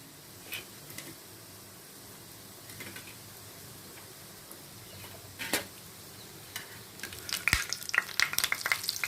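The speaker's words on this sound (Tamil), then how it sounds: "இப்போ நல்லா பொரிஞ்சு வருது பார்த்தீங்களா?" Fish cutlets fry in hot oil in a pan, giving a steady low sizzle with brief louder crackles and spatters toward the end, heard alone without talk.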